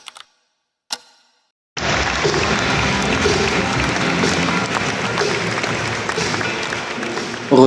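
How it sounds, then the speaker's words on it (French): Crowd applause at a French National league football match in the Caen stadium, opening with a couple of brief clicks and near-silence before a broad, sustained wall of clapping and crowd noise sets in and holds steady. "Retour sur le terrain sous les applaudissements du public"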